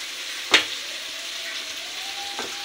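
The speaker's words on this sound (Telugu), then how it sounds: "ఇవి కొంచెం బాగా దోరగా వేగాలి" Vegetables frying in a pan for egg fried rice, a steady soft sizzle running under the whole stretch, with a sharp clack of a utensil near the start and a fainter one near the end.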